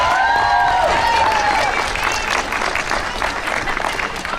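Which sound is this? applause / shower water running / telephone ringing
applause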